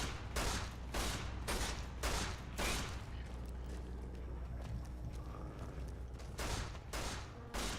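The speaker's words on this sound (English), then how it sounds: "Follow the sound of gunshots?" Gunfire in Fallout New Vegas: a series of sharp, loud shots in irregular bursts, clustered at the start and again near the end, with a lower rumbling game background in between.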